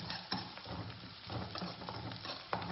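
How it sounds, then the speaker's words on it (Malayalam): Onions sautéing in a pan for coconut chutney give a soft, steady sizzle with repeated scraping stir strokes, faint and close, with no voices. "നന്നായിട്ട് വഴറ്റിയെടുക്കാം."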